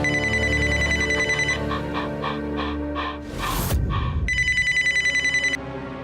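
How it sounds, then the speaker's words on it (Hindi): A telephone rings in a home, loud and near, with a trilling electronic ring that repeats in bursts. A clattering handling noise breaks in midway, then the ring resumes briefly before cutting off. "अरे फोन उठाने दो ना, क्या पता माँ का जरूरी कॉल हो।"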